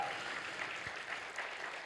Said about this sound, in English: I think that deserves a round of applause again.